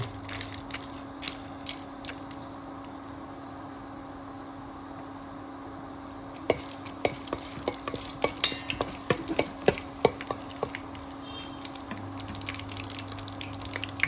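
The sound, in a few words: spices sizzling in hot oil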